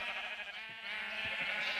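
Sheep bleating in the Minecraft video game, heard as a couple of short, wavering bleats, close and moderately loud over a steady background hum.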